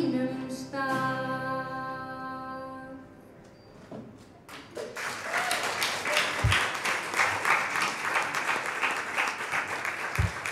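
Applause breaks out at a city council meeting, a dense, loud crowd clapping that starts after a sung or sustained tone fades and continues steadily to the end.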